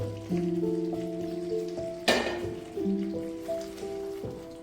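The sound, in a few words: fried vegetables added to sizzling bhuna masala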